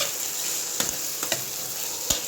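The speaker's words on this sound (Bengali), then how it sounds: "মশলা আমাদের কষানো হচ্ছে দেখতেই পাচ্ছেন আস্তে আস্তে মশলা থেকে কি সুন্দর তেল ছেড়ে দিচ্ছে" Spice paste fries with pumpkin and potato in a pan, a continuous close sizzle punctuated by three sharp clacks of a spoon stirring.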